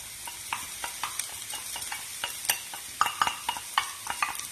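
Dry radish stir-fried in a pan for a noodle sauce, a steady close sizzle broken by frequent scraping strokes and light clacks of a utensil against the pan, with no speech.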